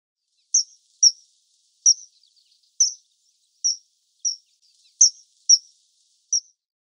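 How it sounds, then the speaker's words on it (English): A kingfisher gives a series of about nine sharp, high, short piping calls at fairly even intervals, clear and alone against silence. "Kingfisher."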